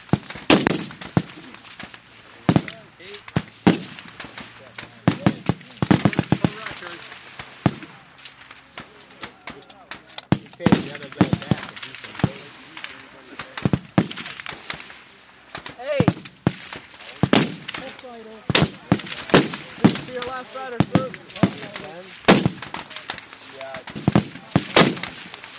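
Rifle fire on the range at the National Rifle Matches: a string of sharp, loud cracks at irregular intervals, some single and some in quick clusters, with people talking throughout.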